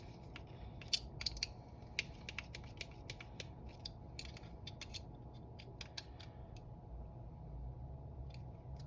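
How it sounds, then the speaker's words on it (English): Screwdriver cranking down small screws on a differential during a diff build, a run of faint, irregular clicking ratchet-like ticks and creaks, close up over a steady low background hum. "take your 2 mil or whatever screwdriver you need and just crank them down"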